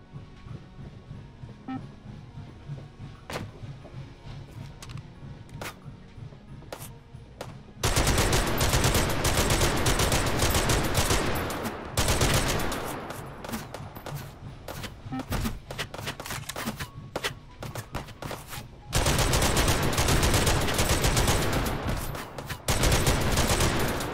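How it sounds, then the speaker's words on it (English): Gunfire in the VR shooter Hot Dogs, Horseshoes & Hand Grenades, played on an HTC Vive: isolated single shots give way to long, loud, dense bursts of rapid automatic fire with brief pauses between them. "I can't believe I missed all those shots."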